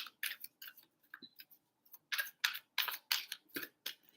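A Mystic Palette tarot card deck being shuffled by hand, a series of quick crisp riffling bursts and soft card taps in close, irregular clusters against near silence.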